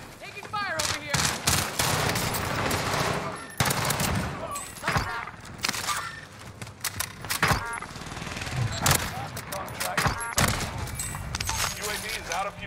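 Gunfire in Call of Duty Warzone, with repeated bursts of shots and rapid volleys spread across the scene, mixed with game effects and voices talking over the action.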